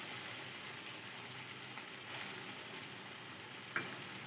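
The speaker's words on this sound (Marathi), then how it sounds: "पुन्हा एकत्र करून परतवून घेऊ." Peanut powder mixture sautéing in a pan with kantoli wild vegetable, a faint steady sizzle with one or two small clicks, quiet and alone.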